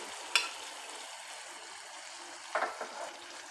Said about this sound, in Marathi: आता आपण चणे घालणार आहोत उकडलेले